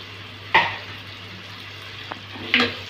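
Onions, green chilli and tomatoes sautéing in a pan for mutton gravy, a steady low sizzle broken by two distinct scraping stirs about two seconds apart, close and without talk.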